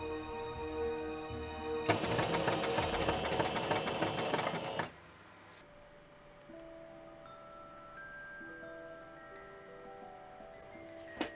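A sewing machine stitches fabric for a Wednesday Addams cosplay in a dense burst of a few seconds, then goes quiet while soft tonal music plays on.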